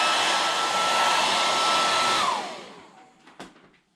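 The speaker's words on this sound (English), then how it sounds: "we're going to get our blow dryer out, and we're going to heat this gun" A blow dryer runs loud and steady, heating a revolver before lubing it for cleaning, then winds down as it is switched off, followed by a few faint handling taps.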